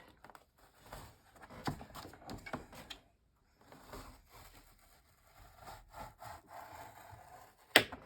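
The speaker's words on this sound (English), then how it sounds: "I'm going to score at a 1/2 inch." A scoring tool is drawn along card paper at half-inch intervals, making soft scratchy rubbing strokes in two bursts separated by a quiet pause, close and faint, ending with a brief sharp click.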